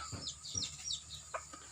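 Chickens at a quiet mountain home give three soft, separate clucks spread across the moment, near but not loud, with faint chirps above them.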